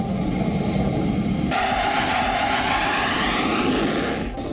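Military aircraft flying over Gaza, a loud, steady engine roar that surges in intensity partway through and holds before easing slightly, with no talk.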